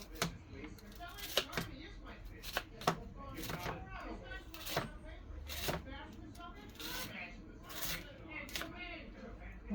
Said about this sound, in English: I'm going to try and cut these roots off